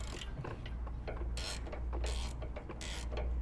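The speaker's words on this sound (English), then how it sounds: "Now we take our ratchet" A ratchet tightens a transmission filter on an Exmark Lazer Z UHT mower, giving quick repeated clicking strokes over a low steady hum, close but fairly faint, with no voices.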